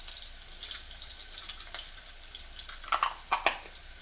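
Chopped garlic cooks in hot oil in a pan with softened onions, giving a faint, irregular crackle and spatter with a few sharper pops near the end, no talking.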